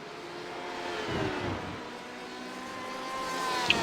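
LMP1 prototype race cars closing in at Monza in a racing video game, a steady engine drone with tonal whine that holds level throughout, rising slightly near the end, with no talk.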